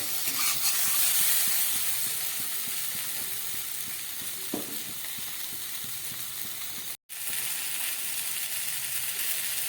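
Potatoes are sautéed with spices in a pan for a Malabar spinach curry, giving a steady, close sizzle and frying hiss throughout, with a faint stir and a brief silent dropout near the end.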